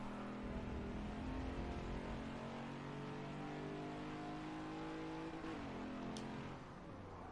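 A Ford Mustang Mach 1 at full throttle on the Watkins Glen race track, its engine droning loud and steady as it accelerates out of a corner, with the pitch climbing and then briefly dipping near the end.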